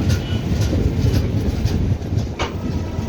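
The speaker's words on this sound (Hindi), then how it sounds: "ये ट्रेन हमारी बिफोर टाइम पहुंच चुकी है नागपुर" A passenger train rolls into Nagpur station with a steady rumble and rhythmic clickety-clack of wheels over rail joints, fairly loud and close, with no voices.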